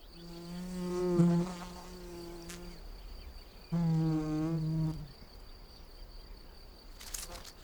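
A wild bee flies close by, giving two loud buzzing passes with shifting pitch separated by a quieter gap, over faint outdoor background.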